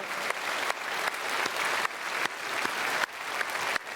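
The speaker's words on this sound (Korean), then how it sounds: "크게 박수로 환영하겠습니다" Church congregation applauding to welcome newly registered members during a Sunday service, dense sustained clapping from many hands in a large hall, fairly even throughout.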